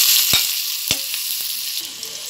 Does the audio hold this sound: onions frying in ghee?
yes